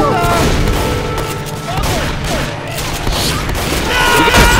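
Heavy overlapping gunfire rattles through a Left 4 Dead 2 custom map of Call of Duty Zombies' Kino Der Toten, loud and continuous with layered game effects and a voice mixed in.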